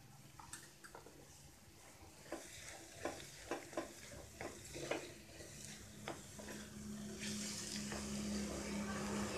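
Egg podimas with chilli powder being stirred in a pan: a soft sizzle runs throughout, broken by a series of sharp spatula scrapes and clinks against the metal, quiet and close.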